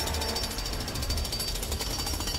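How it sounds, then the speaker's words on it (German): Green Lantern bores into the ground in the Lego Batman 3 video game, making a loud, continuous, rapid jackhammer-like rattle that holds steady at close range with no voices over it. "Der gräbt nicht, der bohrt."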